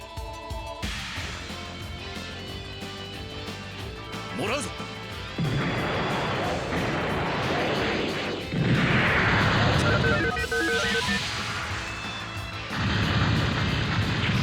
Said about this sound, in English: We're gonna hit him with the low altitude bomb.